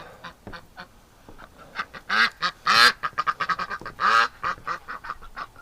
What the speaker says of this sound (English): Oh, look at the goose come over as soon as the duck get upset.